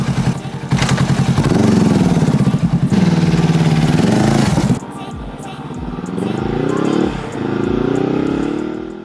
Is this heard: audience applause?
no